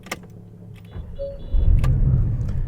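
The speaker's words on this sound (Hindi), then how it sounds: "सबसे पहले इसको स्टार्ट कर लेते हैं।" Porsche 718 Boxster 2.0 petrol with PDK gearbox starting up: a short electric whir and clicks, then the engine catches with a sudden loud, deep rumble that settles into a steady idle close by.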